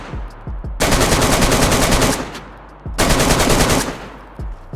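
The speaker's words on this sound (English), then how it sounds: "this time I'm going to see how long it takes to shoot through a wall like this" Two long bursts of automatic AK rifle fire pound into a wooden wall in DayZ, each roughly a second and a half of rapid, loud, close shots separated by a short pause with faint thuds.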